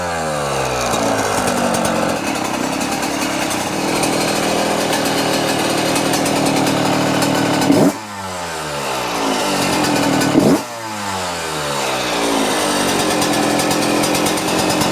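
A Yamaha YZ125 two-stroke dirt bike engine, started with one kick and no throttle, runs steadily and loud up close at a raspy buzzing idle, with two brief throttle blips that make the pitch dip and climb again.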